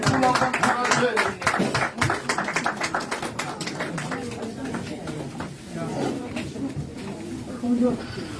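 Church congregation clapping to encourage a singer, brisk crackling applause strongest at the start and thinning out, with voices and murmuring mixed underneath throughout.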